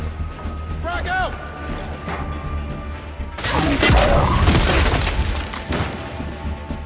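A frag grenade goes off in the game Gears of War 5, a loud booming blast rolling out midway through the clip, with game voices and combat noise around it.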